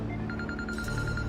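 A telephone rings in an Indonesian drama scene: a steady run of short, evenly spaced electronic ring pulses over low background hum, with no one speaking.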